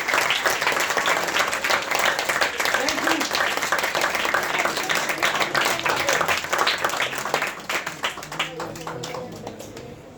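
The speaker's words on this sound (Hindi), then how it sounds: "उसके लिए जरा तालियां बजाएं" A church congregation at a Sunday sermon claps loudly and continuously, the applause thinning and fading toward the end as a voice briefly speaks over it.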